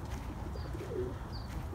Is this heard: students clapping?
no